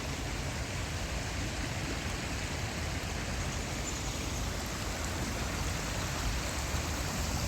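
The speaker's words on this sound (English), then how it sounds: "Creek still flows." A woodland creek flowing steadily, a dense, even wash of running water with no pauses, close and constant throughout, no voices.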